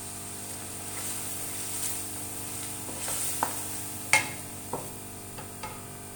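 Beef keema sizzles steadily in a karahi over a continuous frying hiss, with occasional soft scrapes and clinks as a spoon stirs it, the cooking fairly quiet and close.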